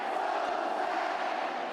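A basketball crowd roars for São José in a steady, full wash of cheering and chanting from the stands, sustained and unbroken throughout.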